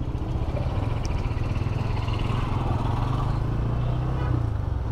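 A motorcycle rides along a city road in Dhaka's Motijheel area, its engine holding a steady, close drone under road and wind noise for the whole stretch.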